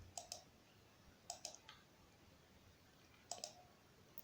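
Computer mouse clicks while selecting walls in CAD software, sharp paired clicks in three small bursts, close and quiet against a faint background hiss, no talking.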